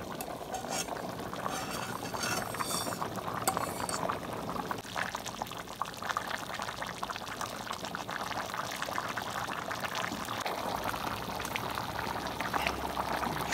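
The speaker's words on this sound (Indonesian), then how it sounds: "Jadi ini bawang bombaynya sudah matang, tinggal dimasukin dengan tomatnya." Tomatoes going into a pan of cooked onions for homemade tomato sauce, a continuous wet sloshing pour with stirring scrapes and bubbling sizzle throughout, no one speaking.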